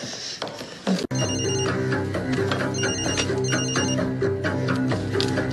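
A telephone rings with a steady electronic ringtone, a repeating melodic tone pattern that is loud, close and continuous after a brief click at the start.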